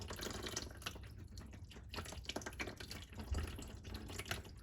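Water pours and drips steadily from a BMW E36 engine with a blown head gasket, a continuous close splashing trickle with irregular drips throughout.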